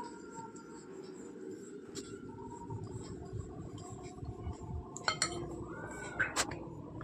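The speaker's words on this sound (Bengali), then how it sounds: "এবার খুব ভালো করে এটা মিশিয়ে নেব" Plum cake batter is mixed in a bowl with a soft, steady scraping and sloshing, with light clinks of the utensil against the bowl near the end, fairly quiet and close.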